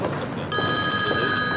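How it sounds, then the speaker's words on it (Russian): A telephone starts ringing halfway through, a steady electronic trill that holds continuously over a quiet room background. "Извини, звонок."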